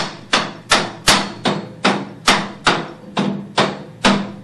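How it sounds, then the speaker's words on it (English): A rubber hammer strikes screws holding a part in place, about eleven sharp, evenly spaced blows close to the microphone, each thump ringing briefly before the next. "beat them with a rubber hammer."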